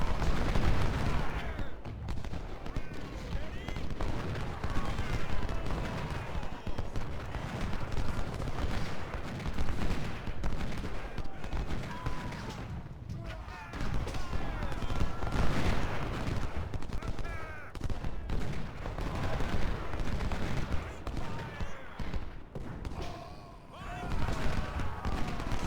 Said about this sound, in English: that gun is still shooting at us